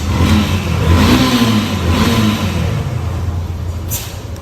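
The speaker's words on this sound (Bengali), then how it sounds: "এখন কিন্তু প্রত্যেকটা সেলফে বাইকটা স্টার্ট নিচ্ছে" A fuel-injected motorcycle starting on its self-starter, a close engine catching and revving briefly before settling into a rougher idle, loud and alone with no voices.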